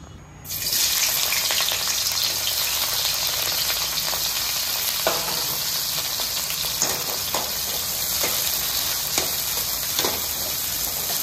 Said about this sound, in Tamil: வெறும் எண்ணெயில் இந்த பிரண்டையை வந்து நம்ம பொரிச்சு எடுத்துக்கலாம்.